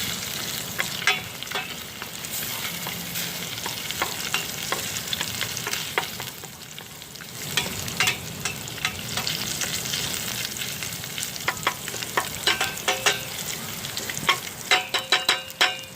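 Sand fleas frying in a pan for Thai fried rice, a constant close hiss of sizzling broken by repeated scraping and clacking as a utensil stirs them, with no voices.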